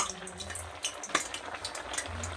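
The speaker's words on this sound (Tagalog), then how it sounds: "nagluluto ako ngayon guys ng ginataang yellow pin" Over a kilo of yellowfin tuna in coconut milk with garlic, onion and ginger simmers in a pot, giving a faint steady bubbling and sizzling with light clinks.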